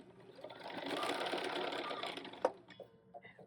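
Sewing machine stitching on scrap fabric to test the stitches before a quilt project, a steady close whirring run of about two seconds that stops, followed by a sharp click and a few faint mechanical taps.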